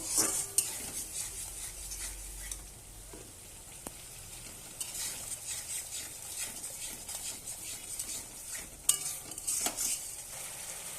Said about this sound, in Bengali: মশলাটা এবার আমি ভালোভাবে কষাবো